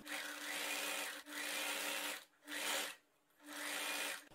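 A sewing machine runs in steady stitching bursts along the second strip of a V-neckline, each run of about a second broken by short pauses, close and clear with no talking.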